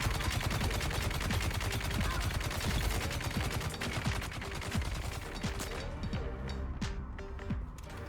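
A gravity field plasma cannon combo fires in a sci-fi shooter video game, a dense, continuous roar of rapid blasts and crackling impacts that stays loud throughout and eases slightly near the end.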